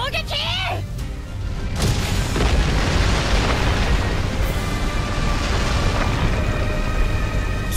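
A heavy explosion in the game A.O.T. 2 booms out and rumbles on as a sustained roar, following a brief burst of synthetic voice at the start.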